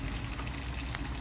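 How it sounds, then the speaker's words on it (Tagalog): Onions sizzling and sautéing in a pan, a steady close frying hiss with small crackles throughout. "nagigisa na ako ng sibuyas"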